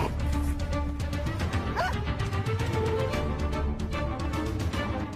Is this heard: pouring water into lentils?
no